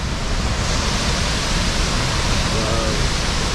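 A waterfall on a river in Venezuela's Gran Sabana gives a steady, dense roar of rushing water, close by and unbroken throughout, with no voices.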